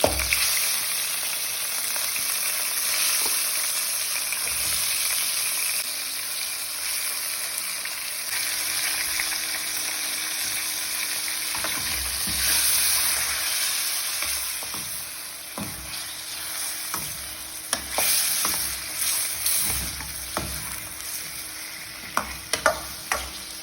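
Goat meat sizzling and frying in a karahi, a loud continuous close hiss with occasional stirring scrapes and clinks of a utensil against the pan, no voices.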